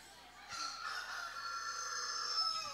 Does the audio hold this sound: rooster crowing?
yes